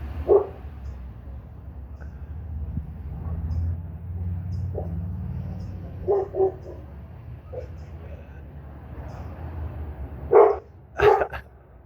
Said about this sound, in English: there's a wonderful barking dog